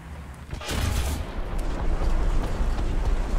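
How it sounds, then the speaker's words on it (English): Tank cannon fire in a War Thunder battle against a Soviet KV-1 heavy tank: one heavy, booming shot rings out early, then a long rumbling roar and echoing battle noise continue loudly to the end, with no talk. "This is actually a good gun battle against this KV-1."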